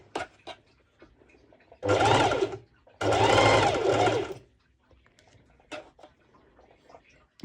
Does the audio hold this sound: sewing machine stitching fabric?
yes